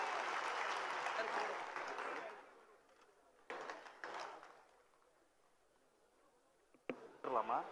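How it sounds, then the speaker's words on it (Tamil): Audience applause at a birthday celebration swells loudly for the first couple of seconds, then fades, with brief renewed bursts of clapping and a voice over a microphone later. "நல்ல ஒரு கைத்தட்டல் தாங்க."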